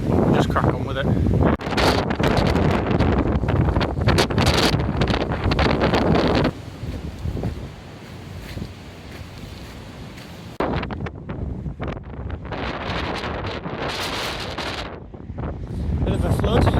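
Gusty wind buffets the microphone during an outdoor November run, a loud broadband rumble that drops away for a few seconds in stop-start fashion before surging back, with a voice talking over it.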